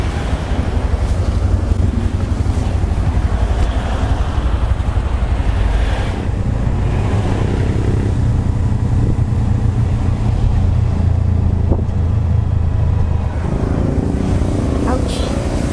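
Motorized tricycle ride in the Philippines, with steady engine and wind rumble throughout and a voice talking over the noise.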